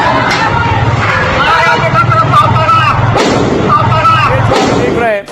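Gunfire from an AK-47 at a protest where stones are being thrown: repeated sharp, loud reports ring out over a dense, constant crowd roar, with booming thuds scattered through the din.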